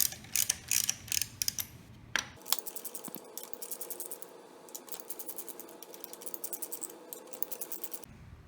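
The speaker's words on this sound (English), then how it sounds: "Loosen up the 6 variator bolts." A ratchet loosens the variator bolts on a Lamborghini Murcielago engine, with close, sharp clicking bursts followed by a fast, even run of ratchet pawl ticks.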